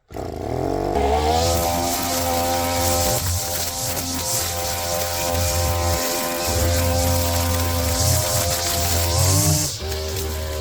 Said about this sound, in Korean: 제가 이걸 예초기를 일단 치고 그 다음에 엔진톱으로 정리할 겁니다